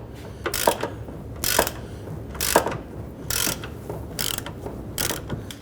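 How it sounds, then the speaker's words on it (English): A 1/2-inch ratchet loosens a rust-sprayed bolt on the rear subframe trailing arm of a Ford Taurus, producing about six short bursts of loud, close clicking separated by brief pauses. "use a shallow or deep, and my 1/2" ratchet here."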